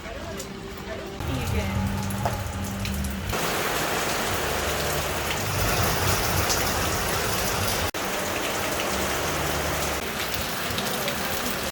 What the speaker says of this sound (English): It's like crazy rain.